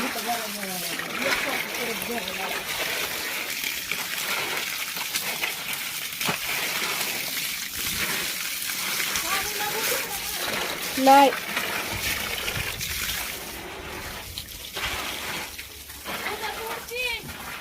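Water splashes and trickles onto the ground in uneven bursts while people talk over it.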